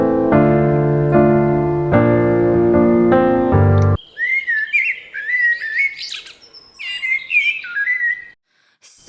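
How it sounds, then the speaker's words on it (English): Clear, high chirping calls of redwings at a drinking trough, several short varied phrases in a row after a few seconds of loud music, with no talking. "The redwings were recorded more or less continuously for 3 to 4 hours"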